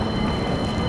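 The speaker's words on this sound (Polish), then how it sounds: "To jest nasze metro, znaczy to jest niby tramwaj, tylko że on potem się zamienia w metro" A tram that runs out of the city as a metro passes by, heard as a steady, close rolling rumble of a rail vehicle with a faint high whine throughout.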